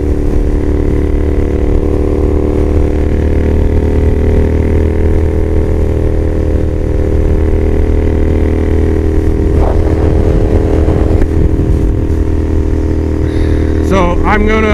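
A motorcycle cruises along a highway with a loud, steady engine drone and constant wind rush recorded from the rider's position. A few faint scrapes and rattles break through near the end.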